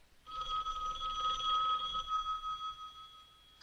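A telephone rings in a house in a suspense horror TV movie, one long, loud electronic bell ring lasting about three seconds and heard alone.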